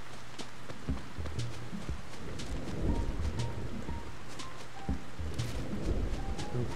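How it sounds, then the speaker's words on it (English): Gentle rain in the Animal Crossing video game, a soft continuous patter of drops with faint tonal game sounds and light ticks, quiet and steady throughout. "because it's raining, that means that when it stops"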